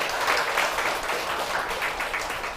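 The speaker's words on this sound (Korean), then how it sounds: "우리 박수 한번 칩시다." A church congregation claps together during a Korean worship service, a short, continuous wash of many hands applauding at steady loudness.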